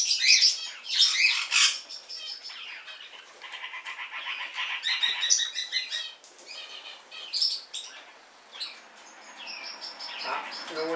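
A pineapple green-cheeked conure and other parrots in an aviary give shrill, overlapping chirps and squawks with bursts of wing flapping, close and lively throughout, with no talk.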